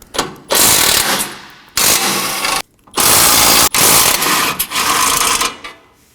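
A power tool drives off 14mm bolts on the front bumper absorber bar of a 2020 or later Toyota Corolla. It makes four loud, buzzing bursts of about a second each, separated by short pauses.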